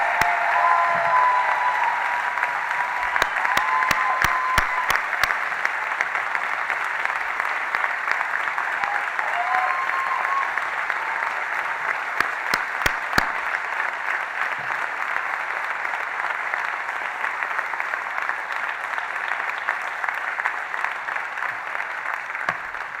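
Sustained audience applause in a room during a city's State of the City address, a steady dense clapping from a large crowd lasting the whole stretch, with a few louder nearby claps standing out.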